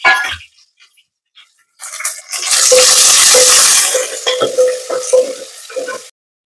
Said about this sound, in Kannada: ಆಮೇಲೆ ಇಲ್ಲಿ ನಾವು ಈರುಳ್ಳಿ ಕಟ್ ಮಾಡಿದ್ದನ್ನು ಕೂಡ ಹಾಕ್ತಾ ಇದ್ದೀನಿ. ಈರುಳ್ಳಿ ಕೂಡ ಫ್ರೈ ಆಗಬೇಕು.